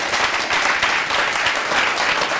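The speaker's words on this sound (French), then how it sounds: "applaudissements encore pour vous" Steady, full applause from a studio audience on a television show, a continuous wash of clapping with little talk over it.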